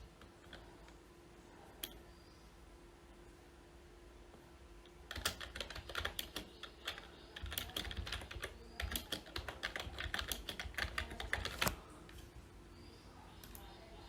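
Quick, uneven clicking of keys on a computer keyboard while entering text into an online form, soft and close, with brief pauses between bursts and no talking.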